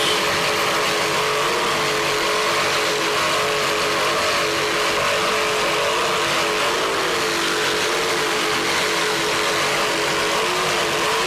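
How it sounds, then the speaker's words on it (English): Zool Racing engines on racing boats roar at a steady, droning pitch with slight rises and falls, heard from a distance with no talking. "Those Zool Racing engines are doing their job."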